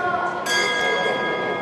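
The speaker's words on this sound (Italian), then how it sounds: "Gong via, secondo round," A single boxing ring gong opens the second round of a professional middleweight bout at an indoor arena, ringing bright and sustained with a sharp strike and long tonal decay.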